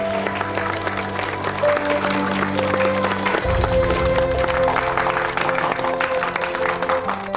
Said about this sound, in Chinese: 从大家热烈的掌声，我听得出来